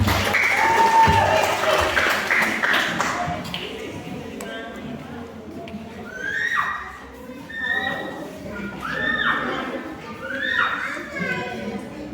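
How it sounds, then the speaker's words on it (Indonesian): Applause for participants at a children's church Easter contest, a few seconds of clapping followed by high, chattering children's voices and scattered taps in a busy room. "sekali lagi kita tepuk tangan buat peserta dari"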